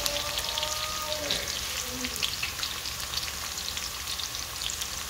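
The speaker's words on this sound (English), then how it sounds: "Just the onion and the scallion in there in the hot oil." Onion and scallion sizzle in hot oil for fried dumplings, a close, steady crackling fry with dense popping spatter throughout, no voice over it.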